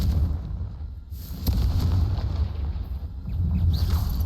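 A Confringo fire spell bursting in the Hogwarts Legacy video game, a loud booming blast with a sharp crack near the middle, followed by rumbling debris and a later smaller burst, no voices.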